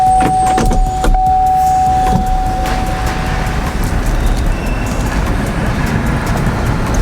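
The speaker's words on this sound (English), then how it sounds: "These new Silverados do drive so nice though." A Chevrolet Silverado pickup drives along, with a steady low road and engine rumble filling the cabin, a brief faint tone early on, and no speech.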